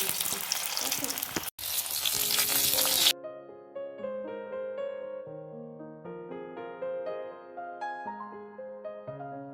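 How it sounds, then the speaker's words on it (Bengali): Potato pieces hit hot oil seasoned with turmeric and salt while a mutton curry is being made, giving a loud, close, hissing sizzle for about three seconds with one brief break. The sizzle then cuts off abruptly and melodic background music takes over. "এই যে এবার আলুগুলো আমি ছেড়ে দিচ্ছি"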